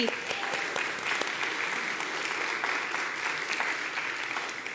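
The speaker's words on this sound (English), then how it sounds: "I think another round of applause." Applause fills a church Sunday celebration service, a broad, steady round of clapping from the audience that holds evenly, then tapers slightly at the close.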